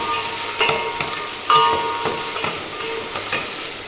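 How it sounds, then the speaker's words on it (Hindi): Masala spices frying for kadhi in a steel pot on a heater, with a steady close sizzle broken by a few sharp stirring clinks and scrapes. "थोड़ा मसाला भून देते।"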